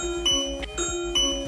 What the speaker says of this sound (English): the Homebase will itself act as a chime